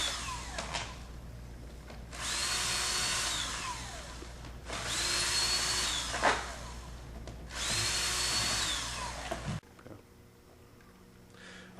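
A power drill backs Phillips screws out of a seat panel on an 03-06 Chevy, three loud whirring bursts of a few seconds each separated by short pauses, close up with no talk.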